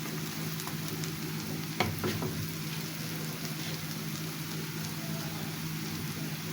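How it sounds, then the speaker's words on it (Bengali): Vegetable bora fritters fry in a hot pan over medium-low heat, giving a steady, close sizzle and bubbling of oil that runs the whole time, with a few sharp crackles near the middle and no voices. "প্রথমে কিন্তু বড়াটা আমি মিডিয়াম আঁচে ভেজেছি, কিন্তু এখন চুলার আঁচটা মিডিয়ামে রাখা যাবে না।"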